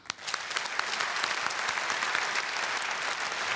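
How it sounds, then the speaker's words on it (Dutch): A crowd applauding steadily, with dense, sustained clapping from many hands filling a large hall. "Geef nog een keer een applaus."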